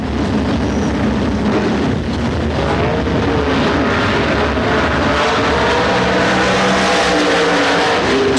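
Dirt track race car number 17, driven by Randy Boggs, roars through a 1997 Dirt Track World Championship qualifying lap, its loud engine droning steadily with shifting pitch as it passes and circles, no voices present.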